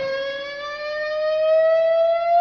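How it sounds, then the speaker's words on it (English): A struck muted-string guitar harmonic rings out as a single sustained, bright squealing tone, alone and close, rising slightly in pitch as it holds. "I'm muting the strings, and I'm going to hit the harmonic like this"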